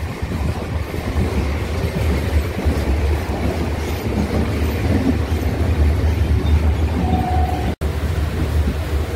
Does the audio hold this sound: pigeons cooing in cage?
no